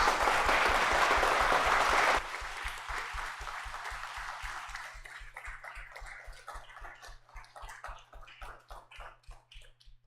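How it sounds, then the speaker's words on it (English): Audience applause at the close of a public astronomy talk, starting as dense loud clapping from a large crowd, then thinning abruptly after two seconds into scattered claps that fade out gradually. "One last huge round of applause for Shifra."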